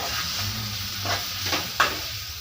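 Mutton masala frying in a pan gives a steady sizzle with scraping stir strokes, and one sharper clink of a utensil against the pan near the end.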